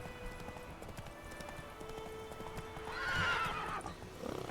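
Roach, a horse in The Witcher video game, whinnies clearly near the end, the neigh rising over soft clip-clop hooves and a quiet wintry ambient bed.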